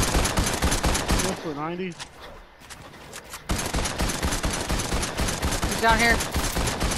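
Rapid, loud automatic gunfire in Fortnite rattles in dense bursts, dropping out briefly in the middle before resuming, with players talking over the shooting.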